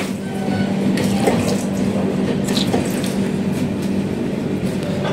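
Water runs steadily into a washbasin aboard the Tinsukia–Bengaluru Express train, a close, continuous splashing stream over the low rumble of the moving carriage.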